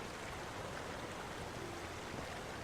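A waterfall in the video game Finding Bigfoot gives a faint, steady, unbroken rush of falling water that holds at an even level throughout.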